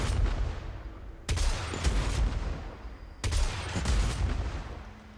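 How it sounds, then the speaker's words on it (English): Explosive-shell alt fire of the Corinth Prime shotgun in Warframe: two heavy, booming blasts about two seconds apart, each trailing into a rumbling explosion tail, loud and up close with no voices. "It also comes with an alt fire that's an explosive shell, and it sounds like this."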